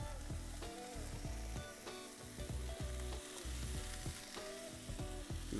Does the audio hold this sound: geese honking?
no